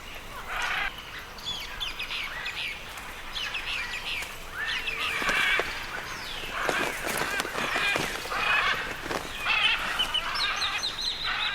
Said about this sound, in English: Macaws are argumentative birds, and the best spots are keenly fought over.